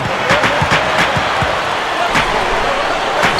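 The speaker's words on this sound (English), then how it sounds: "Here's Aldred, and he slams it home." A basketball slam dunk in the Xbox 360 game NBA 2K11, with sneakers squeaking and the ball bouncing in a quick rhythm before the dunk, set over a loud, constant arena crowd roar.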